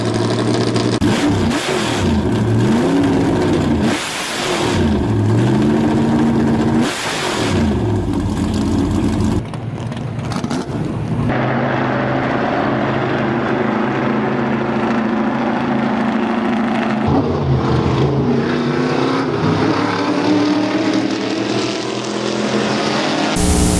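Ford Mustang Mach 1 GTT Trans Am race car in GTA Online, its engine loud and close, revving hard in repeated rising and falling sweeps before settling into a steadier drone.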